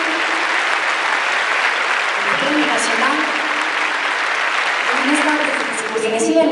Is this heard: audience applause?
yes